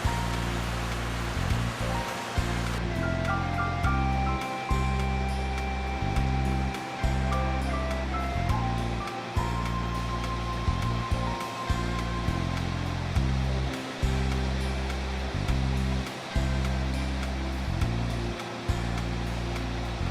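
A clear mountain stream fed by snowmelt rushes steadily along the Chilkoot Trail, a dense continuous wash of flowing water heard close up, with a faint tonal hum partway through and no voices.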